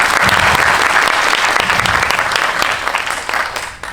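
An audience at a Korean film screening with a guest-visit Q&A bursts into loud, dense clapping that holds steady, then thins and fades toward the end, with no voices over it.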